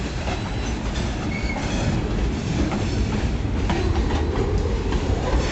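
A Kiamichi Railroad train rolls steadily past at speed, its wheels giving a dense, continuous clickety-clack over a deep rumble that stays loud and close throughout, with no voices.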